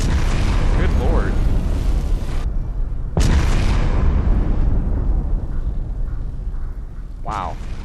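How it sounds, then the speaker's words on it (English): Loud booming explosions in the submarine game Silent Hunter IV, with a heavy rumble that cuts off, a second sharp blast bursting and then rolling away, and a brief crackle near the end. "That was a big explosion."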